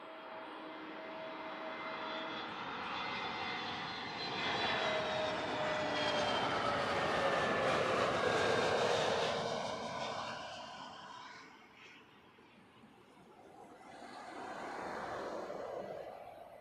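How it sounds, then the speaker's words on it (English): A Scandinavian Airlines Airbus A320 comes in to land at Heathrow, its engine roar swelling and whining overhead, then fading and rising again as it rolls out in the distance. "Scandinavian A320 about to touch down."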